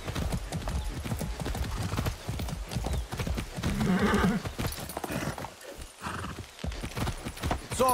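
Steady clip-clop of horse hooves at a brisk rhythm in the video game Far Cry 6, with a brief whinny partway through and faint ambient noise underneath.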